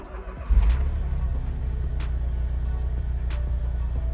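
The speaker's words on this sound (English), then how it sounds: "let's try to restart the car" A Smart Roadster or Fortwo engine turns over and catches after a warning-light calibration, then settles into a steady idle that continues to the end.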